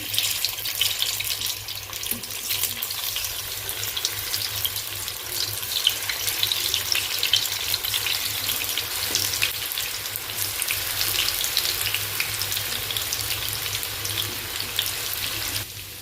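Fenugreek leaf pakoda batter fries in hot oil, giving a steady, dense hiss and crackle that stays even and close for the whole stretch, with no voices.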